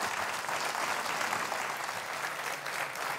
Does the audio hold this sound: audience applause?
yes